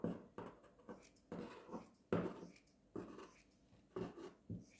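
Scissors snip through folded fabric for a reusable fruit and vegetable bag, a series of close, crisp cuts in short bursts with brief pauses between them.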